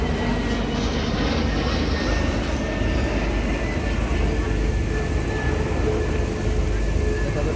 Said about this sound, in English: next we're going to clear the airspace and then back up to the full height of A320neo.